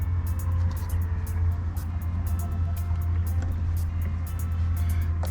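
A Fortress ultra quiet air compressor motor runs continuously nearby, a steady low drone with a dense mechanical rattle on top, unbroken for the whole stretch and no speech.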